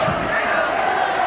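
A rugby league crowd at a 1997 Halifax versus Bradford match roars in a loud, unbroken wall of cheering that fills the whole moment.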